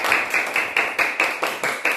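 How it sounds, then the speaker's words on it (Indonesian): Classmates in a classroom clap for group 2 in a rhythmic, unison beat of about eight sharp claps, close and evenly spaced. "tepuk tangan untuk kelompok 2"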